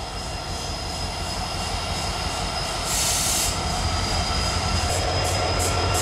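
An SD70AC diesel locomotive train arrives at St. Denis, producing a loud, steady rumble of engine and rolling wheels with a brief rise in high squeal partway through, and no voices.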